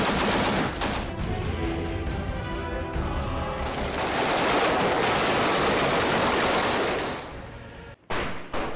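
Loud, dense gunfire in an early-morning special forces raid across the LOC, rapid bursts of automatic shots overlapping continuously, then a sudden break and a brief final burst near the end.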